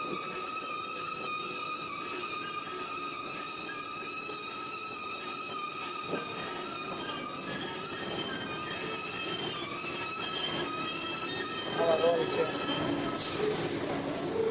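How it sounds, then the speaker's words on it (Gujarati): A train rumbles past with steady rolling noise and faint wheel squeal, voices murmuring nearby. "ટ્રેન છે મોટી મોટી"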